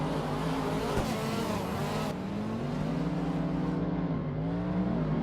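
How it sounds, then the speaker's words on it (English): A drift car accelerates out of a corner in a tandem run at a drift event, its engine revving up and down in loud, rising and falling whines close by. "He's accelerating out of the corner on the clipping point"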